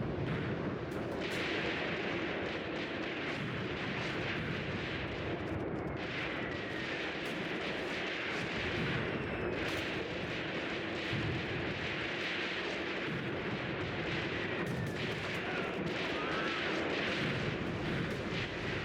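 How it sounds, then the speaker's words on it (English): Mortar fire in the tank combat game Tank Warfare: Tunisia 1943 comes as a dense, continuous roar of distant blasts and rumbling impacts, loud and sustained with no talk. "Now the mortars are coming in."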